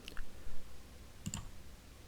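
A computer mouse clicks a couple of times in quick succession on a Microsoft Excel options menu, short and close, with quiet room tone before and after.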